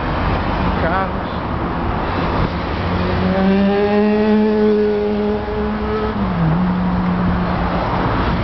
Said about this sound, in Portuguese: Carros.